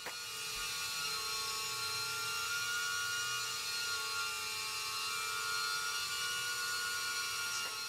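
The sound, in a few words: BetaFPV Pavo20 Pro FPV drone flying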